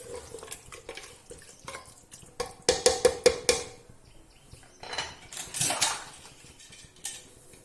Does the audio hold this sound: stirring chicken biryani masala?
yes